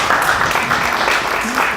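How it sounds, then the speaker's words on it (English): Brief applause from a small audience at a local community forum, a short burst of clapping with a voice speaking over it. "applause for Diane"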